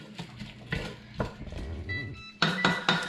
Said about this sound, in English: So she's stirring it up.